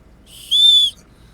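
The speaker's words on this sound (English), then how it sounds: "And now this comes out and it becomes a whistle." One short, shrill blast from the survival whistle built into a Leatherman Signal multitool, clear and close, lasting about half a second in an otherwise quiet moment.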